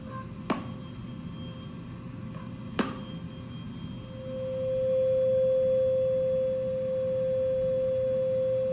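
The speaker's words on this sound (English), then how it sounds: "the air column is really resonating" Two sharp taps, then a steady pure tone rises and hums continuously as an air column resonates, growing louder and holding.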